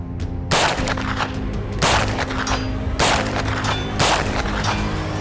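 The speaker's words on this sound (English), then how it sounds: "We're gonna be showing you that the gun is accurate at range." Repeated loud gunshots from a real-life replica of the Jackal gun from Black Ops 6, fired at a shooting range. Four heavy booms land about a second apart over a dense, constant rumbling background.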